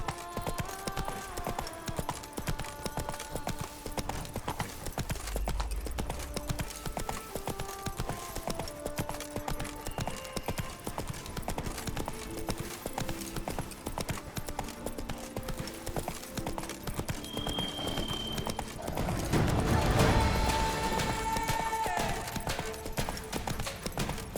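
Roach, the horse in The Witcher 3 video game, galloping with rapid steady hoofbeats throughout over game music, and a louder swell of action near the end.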